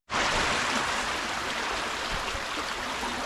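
A creek flows with a steady, broadband rushing wash that starts abruptly and stays constant, fairly close and moderately loud with no voices.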